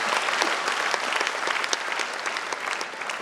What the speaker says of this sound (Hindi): एक बार जोरदार तालियां भाई अजय अंजाम के लिए बजाइए